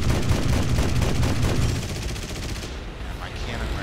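Rapid bursts of Yak-9T aircraft cannon fire in the War Thunder combat flight game, a dense loud rattle over engine roar for about two seconds, then the firing stops and the engine drone carries on alone.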